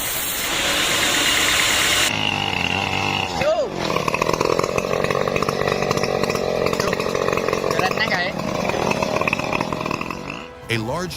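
A specialized saw machine at a forest timber operation cuts through logs, giving a loud continuous engine-driven whine that holds for several seconds, shifts pitch briefly and then carries on steadily.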